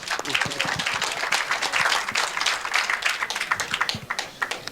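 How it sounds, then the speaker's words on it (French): An audience at a conference on the global food crisis and agroecological transition breaks into lively, loud applause, many hands clapping in a dense, uneven patter that carries on throughout. "Oui, on peut l'applaudir."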